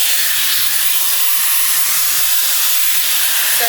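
A Shark FlexFusion hair dryer with a round brush attachment runs on its hottest heat at medium speed, blowing a loud, constant airy hiss close by, with faint low thumps beneath.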